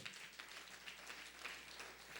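A church congregation applauding at a Spanish-language Bible lesson on fasting, a steady wash of scattered clapping that stays even and fairly faint throughout, with no voices over it.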